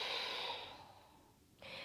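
A soft, slow exhale through the nose during yoga practice, close and breathy, fading out before a brief fresh intake of air at the end.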